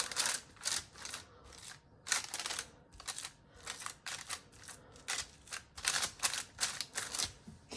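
A cereal bar mixture of puffed cereal is pressed flat onto baking paper on an oven tray, producing repeated crisp crackling and rustling bursts in an uneven rhythm, close but soft.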